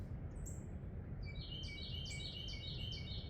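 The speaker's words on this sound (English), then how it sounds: "You hear the birds?" Birds singing outdoors, a faint run of thin, repeated chirps and short trilling phrases rising over a soft, steady background hush, with no voices.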